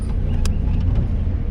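A jeep climbing a hill road in Munnar: steady, loud engine and road rumble heard from close by, with a brief clattering knock partway through and no talk.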